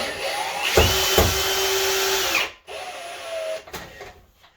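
A power drill whirs in two bursts, spinning up with a whine and short clicks as it drives a screw while installing shower doors, the worn flat bit not seating fully, then pauses and runs briefly again.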